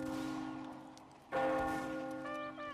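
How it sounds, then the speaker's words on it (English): A church bell tolls in the Mount & Blade North & South mod, its sustained ringing humming and decaying, then struck again sharply at mid-clip with a bright, loud peal that rings on. "The bell tolling."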